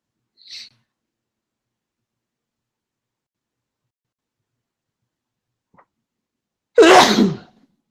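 A single loud sneeze breaks a long stretch of near silence, preceded by a faint brief sound.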